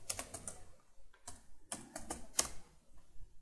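Someone types quickly on a computer keyboard while entering a command, giving close, crisp key clicks in uneven bursts with brief pauses and no speech.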